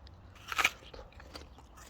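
A crunchy Deveci pear is bitten once, a close, sharp crisp crunch followed by faint chewing, with no talking.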